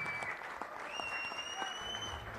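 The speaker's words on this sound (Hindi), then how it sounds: "आपने सुन ली है तालियां" Applause from an audience greeting Neeraj Chopra, India's first track and field gold medallist, at an event: a dense, even patter of many clapping hands, fairly faint and distant, with a brief thin tone sounding through it.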